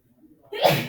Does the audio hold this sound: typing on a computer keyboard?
no